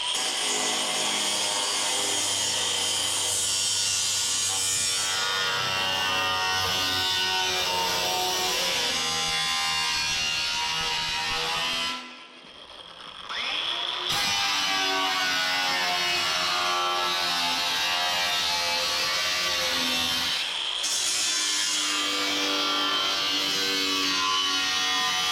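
A power tool saws through a car fender for a splice repair, a loud continuous grinding cut running nearly the whole time with one brief pause midway before resuming.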